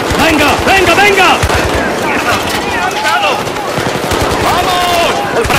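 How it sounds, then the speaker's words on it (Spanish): Gunfire in a video game shooting mission, dense rapid bursts of automatic shots crackling loud and close, mixed with shouting voices over the din. "¡No dejéis de disparar!"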